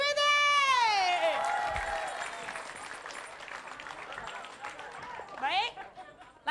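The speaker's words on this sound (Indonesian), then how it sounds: "Tepuk tangan dulu untuk Sweetie." A crowd of children and adults applauds at a stage challenge show, with clapping and cheering that fade gradually from a loud start under a speaker's drawn-out amplified voice, ending in a short burst of talk.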